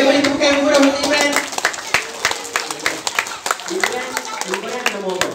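A crowd at a Maal Hijrah religious talk claps steadily for Imran, a dense patter of hands beneath a speaker's amplified voice, the applause thinning into scattered claps near the end.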